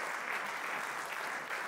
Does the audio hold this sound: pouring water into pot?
no